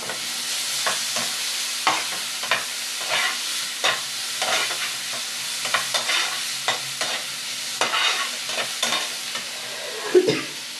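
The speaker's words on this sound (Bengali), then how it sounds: "মশলাটাকে ভালো করে কষিয়ে নিতে হবে। এর সঙ্গে দেব পেঁয়াজ কুচি," Spice paste with ground coriander and chopped onion sautés in oil in a frying pan for a Bengali fish curry, a soft steady sizzle broken by frequent scraping stirs of a spoon, close and clear with no talking.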